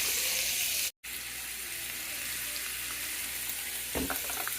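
Onions and celery frying in a pan, a steady bright sizzle close up, briefly cut out, with a small clatter near the end and no talk.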